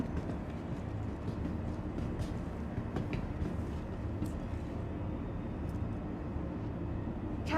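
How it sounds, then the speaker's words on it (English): A train capsule pulling into a station in the game Star Citizen, heard as a continuous low rumbling roll with steady mechanical hum and faint clicks, close and sustained throughout. "Capsule now approaching station."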